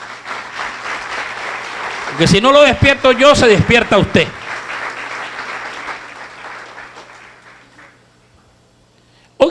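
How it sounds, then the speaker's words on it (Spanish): A church congregation at a regional gathering bursts into applause for about two seconds, loud and dense, while a preacher keeps talking over and around it. "A ver, aplaudo al Señor."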